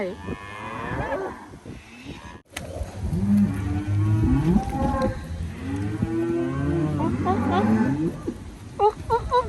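Cattle on a farm moo repeatedly in long, deep, loud calls, several animals overlapping close by, with a brief break partway through.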